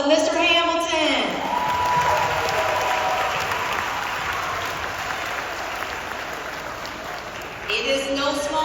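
Audience applause fills a middle school graduation ceremony, a broad, steady wash of many hands clapping for several seconds after a spoken announcement, with a voice heard briefly at the start and again at the end.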